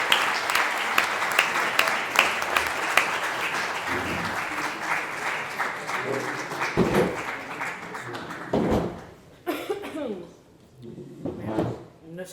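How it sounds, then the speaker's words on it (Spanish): Sustained audience applause at a lecture event at the Ateneo, dense clapping for about eight seconds before tapering off into scattered claps and a few knocks and shuffles. "Le ruego un aplauso muy fuerte para María del Mar Villafranca y para don Leopoldo Torres Balbás."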